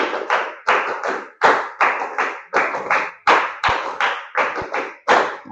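A class of students claps in unison, beating out a repeated pattern of sharp, close claps in quick groups, steady and rhythmic without any talk.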